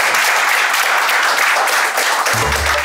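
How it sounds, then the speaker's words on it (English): Audience applause during a presentation on integrating pictures with graphics: steady, dense clapping across the whole clip that ends with a brief low thump near the close. "Don't you want to clap for this?"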